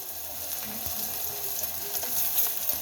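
Ingredients frying in a pan for curd soup, a soft, steady sizzle with faint crackles running continuously, close and moderately quiet, with no talk over it.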